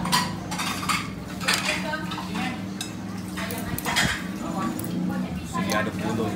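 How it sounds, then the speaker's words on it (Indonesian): A metal spoon stirs and clinks against a bowl of Jakarta-style soto, making repeated scraping and tapping sounds amid restaurant clatter while people talk nearby. "Sini aduk dulu."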